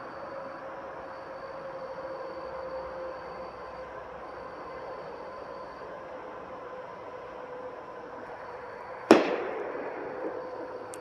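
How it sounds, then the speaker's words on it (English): A single firework goes off a short distance down a residential street, one sharp loud bang near the end that rings out and decays, after a long stretch of quiet outdoor hum with no talking. "They're like right over there lighting fireworks."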